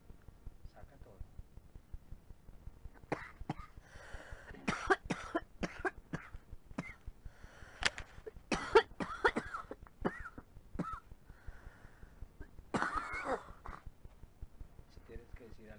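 A person coughs repeatedly in bursts, close and fairly faint, mixed with someone talking over a low background.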